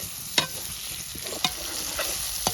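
Chopped potatoes stirred into a sizzling pan with fried onion, green chilli and turmeric, a soft steady sizzle broken by a few sharp spatula scrapes and clinks, close by.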